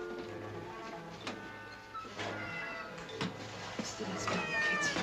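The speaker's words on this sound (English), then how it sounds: "Leutnant Meyer, fangen Sie mir doch mal die Katze ein." A cat meows repeatedly in a WWII drama scene, its calls rising and falling close by over a busy room-tone background.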